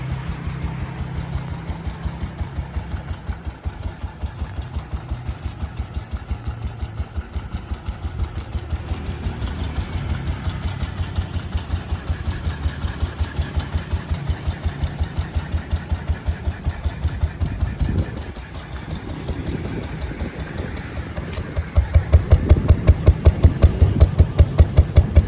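A 1957 BMW R26 single-cylinder motorcycle with original 6-volt ignition idles steadily nearby, a fast, even putter that dips briefly and then picks up louder near the end.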